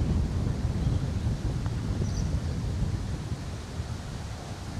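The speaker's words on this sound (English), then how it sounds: "I'd hate to be playing in wind like this" Strong, steady wind roars across an open golf course, a constant low rumble of gusts buffeting the microphone with no voices present.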